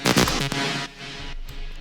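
The synth lead from the first part of a future rave drop plays loud and alone, with several rapid punchy notes followed by a held tone and a fainter tail.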